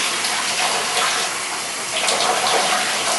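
Shower water running and splashing over hair, a loud, steady, dense hiss of spray that continues without a break, with no talking.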